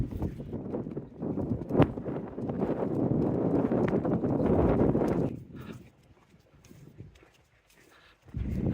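Gusts of wind buffet loudly for several seconds, then drop to quiet before another gust rises at the end.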